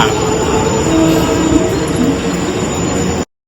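A loud, close train rumbles steadily at Bandra Terminus with high metallic wheel squeals ringing above it, then cuts off abruptly.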